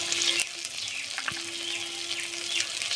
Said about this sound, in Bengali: মশলাটা সুন্দর করে কষে নেব।